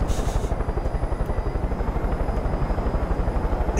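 Helicopter rotor thumping steadily as the aircraft lifts off in the video game Far Cry 5, a loud, fast rhythmic chop with a turbine whine held throughout, no voices.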